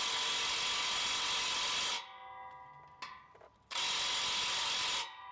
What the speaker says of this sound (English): Just gonna get on there with the impact.